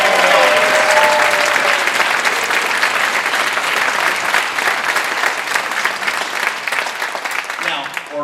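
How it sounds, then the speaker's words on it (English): Sustained audience applause at a high school concert, loud and dense clapping from a large crowd, continuing throughout and tapering slightly at the end. "So, a round of applause for all the seniors out"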